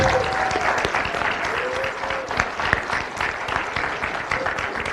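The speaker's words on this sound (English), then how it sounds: "let's have one more round of applause for the winners and honorable mentions" A city council meeting audience gives a sustained round of applause for award winners and honorable mentions, dense steady clapping with a few faint voices underneath.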